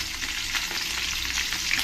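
Green chillies fry in hot oil for a tempering, giving a steady close sizzle and crackle with no talking.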